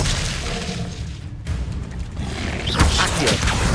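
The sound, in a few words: Expelliarmus disarming spell in video game Hogwarts Legacy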